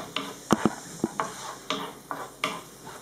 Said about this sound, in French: Je vais faire revenir mon oignon qui est coupé très très fin